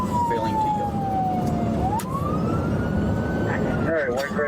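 A police siren wailing during a car chase after a white Chrysler that fails to yield, a steady rising and falling tone near and loud, mixed with engine rumble.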